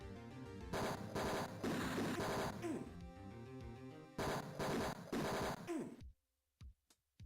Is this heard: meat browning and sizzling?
no